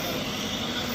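A Yamaha R15 V3 motorcycle engine runs on an Akrapovic full-system exhaust with the silencer removed, making a loud, harsh, steady roar that fills the whole second without talking.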